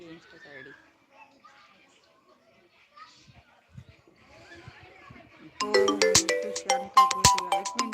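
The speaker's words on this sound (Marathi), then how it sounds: "मला कॉल येते" A mobile phone ringtone for an incoming call starts partway through, a loud repeating electronic melody that follows quieter background chatter and children's voices.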